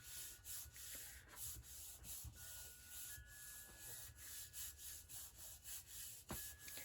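A hand rubs firmly over a glued extra-large paper gift bag, about 15 by 9 inches, in quick repeated strokes that make a soft, close, scratchy swishing rhythm heard alone and quietly.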